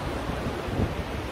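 Continuous broadband wash of sea surf near high tide with wind buffeting the microphone, a steady roar without distinct breaks.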